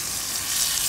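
Steady, close sizzling of butter melting in a hot pan, a bright continuous hiss that swells slightly toward the end, with no voices.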